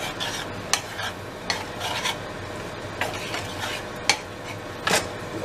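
Noodles being stirred in an oiled pot, giving soft scraping and rubbing strokes with a few sharp utensil clicks against the pot at irregular intervals, close and fairly quiet.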